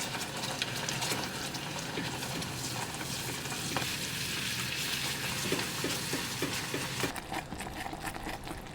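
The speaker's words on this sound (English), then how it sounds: "let's go ahead and add in our heavy cream" Heavy cream is poured into hot caramel in a pan on the stove and stirred, giving a continuous close bubbling sizzle with soft scraping strokes throughout and a few light taps near the end.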